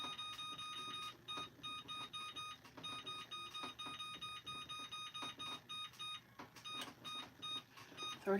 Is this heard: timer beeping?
yes